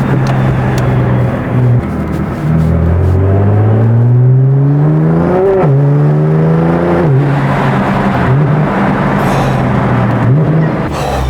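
Nissan GT-R R35 engine running loud and close, revving repeatedly through rising and falling sweeps, with a sharp climb near the middle before it settles back to a steady rumble.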